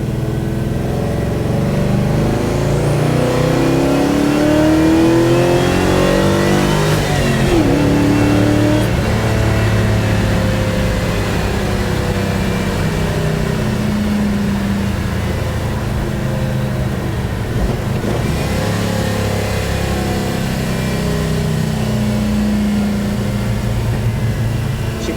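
A 1966 Beaumont with a 283 crank in a 400 block V8 pulls hard through the gears, the engine note rising in long sweeps with shift breaks, loud and steady from inside the car.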